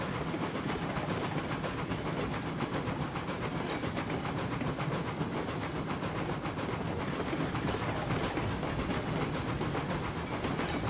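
Eureka steam locomotive being driven on its way to the ironworks, heard from the engine end: a steady, continuous chuffing and hissing run with rhythmic clickety-clack of the rails, unbroken and moderately close throughout.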